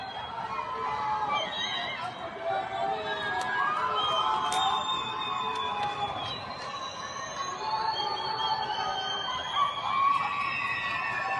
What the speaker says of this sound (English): They're whistling and cheering and screaming,